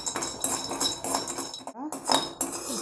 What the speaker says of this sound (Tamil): பாருங்கள், லைட்டாக நம்ம வறுத்துக்கலாம்.